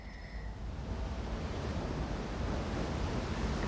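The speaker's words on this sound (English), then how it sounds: "I'm hearing running water." Running water in an Elder Scrolls video game rushes as a steady, broad hiss that grows slightly louder over a few seconds, heard alone without talk.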